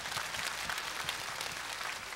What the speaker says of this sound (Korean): 다음 출연자에게 또 박수 보내주시기 바랍니다.